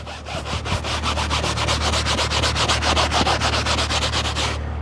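A sponge scrubbed hard back and forth during detailing of a car left uncleaned for seven years, giving rapid, even rubbing strokes close up, around five per second, continuous and loud with no voices.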